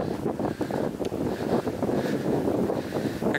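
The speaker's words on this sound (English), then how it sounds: "Still very windy," Strong wind at a lookout in a national park near Sydney roars steadily across the microphone, a dense, close rumble with brief gusting swells and no voices.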